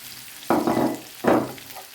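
Potatoes and onion frying in butter in a pan, with two bursts of sizzling and stirring scrapes over a low steady crackle, close and clear with no talking.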